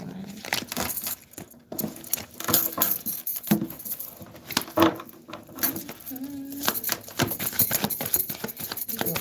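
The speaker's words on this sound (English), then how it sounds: "I hate starting another pile without shuffling cards like that." A deck of cards is shuffled by hand close by, giving quick rustling, flicking patters in irregular bursts, with a few faint voice fragments.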